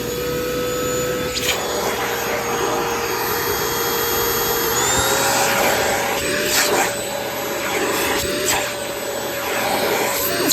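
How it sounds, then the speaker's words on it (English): A Euro-Pro stick vacuum cleaner runs on its hose setting, a loud steady whine and motor drone that shifts pitch slightly as the hose is moved, continuous with no talking. "It's a pretty cool stick vacuum."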